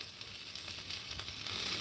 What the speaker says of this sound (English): Big morel fried mushroom in the middle. That's hot.